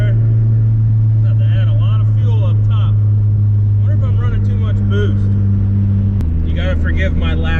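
A turbocharged Chrysler Conquest engine drones steadily from inside the car, holding a low hum that steps up in pitch near the end as it pulls under boost, with someone talking over it.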